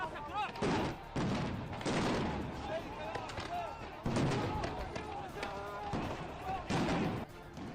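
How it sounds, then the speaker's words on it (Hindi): Bursts of gunfire from security forces crack out over shouting voices from a crowd on an Iraqi street, several sharp volleys spread across the scene amid constant commotion. "भीड़ को काबू करने के लिए सुरक्षा बलों को गोलियां चलानी पड़ रही हैं।"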